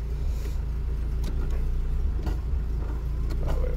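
Peugeot 205 GTI engine idling or running steadily, a continuous low rumble heard from close by with no speech over it.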